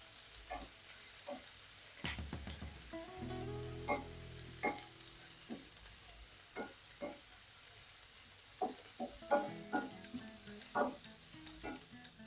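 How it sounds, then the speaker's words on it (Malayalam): Dried prawns frying in oil in a pan, heard as a quiet, soft sizzle with scattered spoon clinks and stirring scrapes, one short rattling burst near the start. "നമ്മളെ ഉണക്ക ചെമ്മീൻ അങ്ങനെ നല്ലതുപോലെ ഫ്രൈ ആക്കിയിട്ട് സിമ്മിലും തൊട്ട് മേലിട്ടേ വറുക്കാവുള്ളേ"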